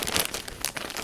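Plastic wrap crinkling and rustling close by as a crochet club package is unboxed, a steady busy crackle with sharper crunchy peaks.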